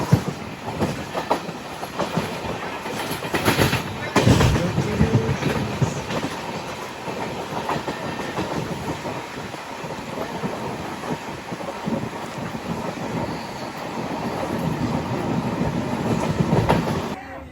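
Passenger train running on rails during a long-distance journey in India, with continuous rumbling, clattering wheels and rattling carriage noise, a few louder jolts, and faint voices underneath.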